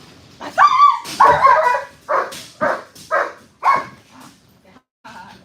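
A dog barks and yips in short, loud bursts, several in a row with brief gaps, close by and with no talking.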